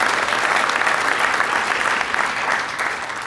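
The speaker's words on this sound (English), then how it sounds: "I think that deserves a round of applause." Applause from the audience at a Saint Paul firefighter academy graduation ceremony, dense steady clapping at close range that fades slightly at the end.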